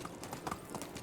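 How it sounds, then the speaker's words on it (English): Iron-shod horse galloping in the medieval game Medieval Dynasty, with rapid, moderately loud hoofbeats in an uneven rhythm over a steady background bed. "this horse, you know, with both the skills that I have and the iron horseshoes, he can run for a very long time at a gallop"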